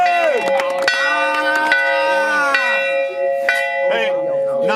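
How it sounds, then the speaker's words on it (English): A bell rung in celebration after a high school football game, struck repeatedly in quick succession, loud and close with long ringing overtones that overlap and keep sounding, as voices talk underneath. "Malachi, ring the bell."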